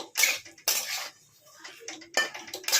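A spatula scrapes and clatters in a pan of fried potato and pointed gourd with katla fish curry, three bursts of metallic stirring separated by short pauses.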